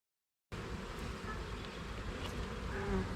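Honeybees droning in a steady, dense buzz at an opened beehive during a queen check near the honey supers, close and continuous after a brief silent start, with no talk.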